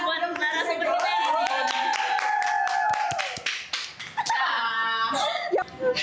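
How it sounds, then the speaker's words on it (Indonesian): Scattered hand claps from a small group welcoming guest speakers on a studio podcast, sharp and close, mixed with loud voices and cheering throughout. "Oke, kita kasih tepuk tangan buat narasumber kita ini."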